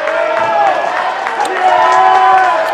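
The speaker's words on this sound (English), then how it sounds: "Rams crowd pick it up." Home crowd of Rams fans cheering and shouting steadily through a boys high school basketball game, a dense sustained roar that swells louder midway, with a commentator's voice talking over it.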